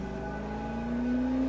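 A car at a drift competition in Need for Speed 2015 gives off a steady, close engine drone whose pitch edges upward near the end. The short burst has no talking.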